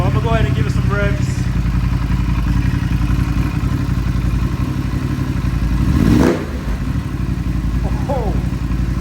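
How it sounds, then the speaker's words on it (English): A Ducati Hypermotard 950 SP fitted with a full Termignoni exhaust revs loudly and close by, its engine note climbing and falling in sharp blips over a steady idle. "So I'm gonna go ahead and give it some revs."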